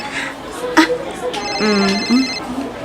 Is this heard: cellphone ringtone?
yes